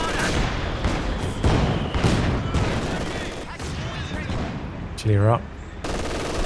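Dense machine-gun bursts and scattered gunfire roll through a Company of Heroes 2 multiplayer battle, loud and continuous, with artillery-like booms mixed in, while a game unit voice speaks briefly.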